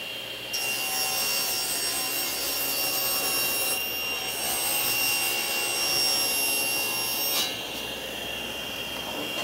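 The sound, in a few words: table saw ripping wood panel material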